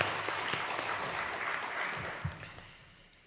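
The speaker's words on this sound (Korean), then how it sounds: "영광의 박수 올려드리겠습니다." Church congregation applauding during an Easter-season Sunday worship service, a steady wash of clapping that tapers off toward the end, with a few faint voices underneath.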